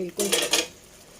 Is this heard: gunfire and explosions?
no